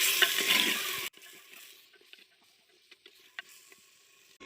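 Ginger, garlic and green and dried chilli paste hits a hot pan in a loud burst of frying sizzle for about a second, then quieter scattered stirring scrapes and light spatters follow.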